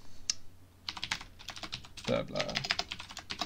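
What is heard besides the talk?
typing on a computer keyboard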